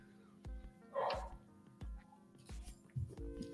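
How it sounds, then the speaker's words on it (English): A dog barks indoors in a short series of muffled, fairly faint woofs, about five in a row with quiet gaps, heard behind a steady hum. "Do you guys hear barking?"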